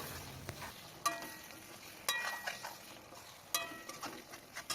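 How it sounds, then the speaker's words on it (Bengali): Cubed potatoes being fried with spices and mutton fat in a pot, a soft, low sizzle broken by sharp stirring clinks and scrapes of a utensil at irregular intervals, close by and quiet, with no talking. "এখন মশলার সাথে মাটনের যে চর্বিগুলো সেগুলো কষিয়ে নিচ্ছে"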